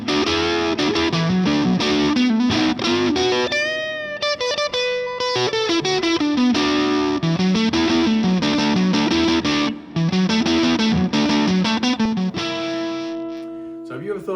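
Electric guitar played through a handwired Fuzz Face fuzz pedal, thick woolly distorted notes and sustained chords in a loose riff, loud and close, with brief pauses between phrases.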